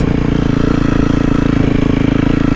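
A 2024 Beta 450RX off-road motorcycle engine runs close and loud, a smooth, steady rapid thumping drone with even pulsing throughout.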